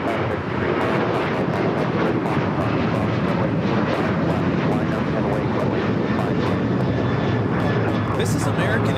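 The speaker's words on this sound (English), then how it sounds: "This is American Airlines 1037 taking off to Columbus on the 737-800." American Airlines Boeing 737-800 roaring down the runway at LAX bound for Columbus, a loud, constant jet engine rumble with people talking over it in bursts.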